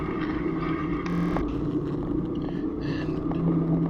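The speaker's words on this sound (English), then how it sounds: "And this is us driving some more." A rallycross car at Stafford rumbles steadily from inside the cabin, engine drone rising and falling slightly as it drives, with a brief brighter mechanical rasp partway through and no voices.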